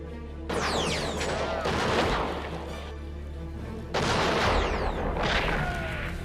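Gunshots during a sniper film scene: a dense, loud roar of gunfire and blasts runs continuously, swelling again partway through with sharp ringing sweeps and debris-like crashes.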